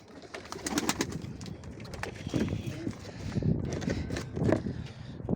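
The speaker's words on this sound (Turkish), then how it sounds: "Gördüğünüz gibi arkadaşlar kümesimiz kuşlarımız da burada." Pigeons coo softly inside a coop, with rustling, shuffling and faint wing movement close by, and a person speaking over the birds.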